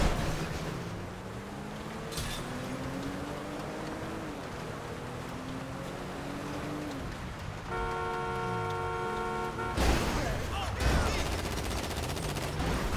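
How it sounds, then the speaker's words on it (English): Gunfire in GTA 5 Online, rapid bursts of shots over engine drone and game noise, with a harsh loud burst near the end and a horn-like tone partway through. "Oh, he's shooting at her"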